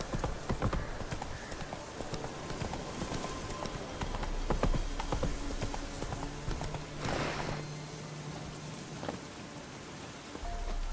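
Hoofbeats of the horse Roach trotting in The Witcher 3, a steady clip-clop rhythm over a constant hiss of rain, with a brief low tone midway and no speech.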